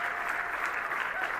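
Steady applause from an audience fills the room at a Women's World 8-Ball Championship final, a continuous even patter of many hands.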